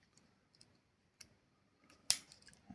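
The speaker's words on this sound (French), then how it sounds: "Et la paire de ciseaux." Small scissors on a multi-blade pocket knife snip twice: two crisp, quiet clicks about a second apart against a near-silent background.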